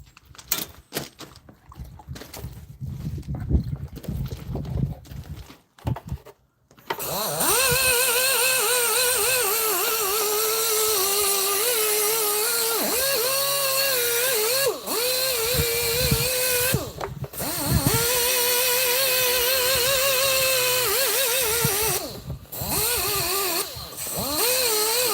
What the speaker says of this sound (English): Back over to the rotary polisher.